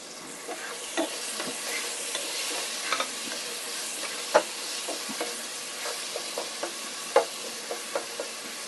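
Chopped onions fry in a pan, a soft continuous sizzle punctuated by irregular clinks and scrapes of stirring, moderately close and with no voices.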